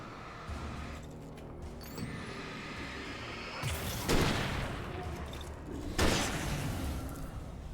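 Rifle gunfire in the video game Alan Wake, two heavy booming shots a couple of seconds apart over a busy game background of rumble and mechanical noise.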